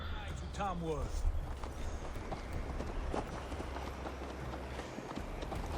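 Horse galloping in the video game Assassin's Creed Valhalla, a quiet steady clip-clop of hooves running beneath a voice speaking over it.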